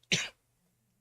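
A single sharp, close cough, followed a moment later by the start of another brief cough, in an otherwise quiet room.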